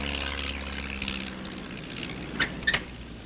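A propeller plane passes low over an island at night, its engine drone fading from a steady hum into the distance, followed by a few sharp clicks near the end.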